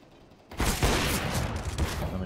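AK-47 fire in the video game CS:GO during a Train map match, a loud close burst of rapid rifle shots that starts abruptly and rolls on for about two seconds under a commentator's voice.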